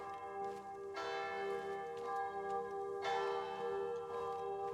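A church bell in the video game Sniper Elite Résistance rings out in repeated, resonant strokes with long humming decay, two strong strikes standing out over a steady tonal wash, without talk.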